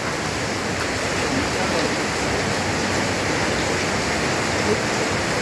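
Heavy rain pours down over Pangkalpinang city centre as a steady, dense wash of noise that stays loud and even throughout, with no clear voices above it.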